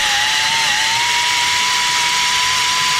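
Cordless drill with a left-hand twist bit boring out a broken tap in a Mercedes T1N OM612/OM647 cylinder head, a steady high whine with an unbroken grinding hiss, loud and close, no talking.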